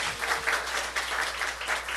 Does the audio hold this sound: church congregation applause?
yes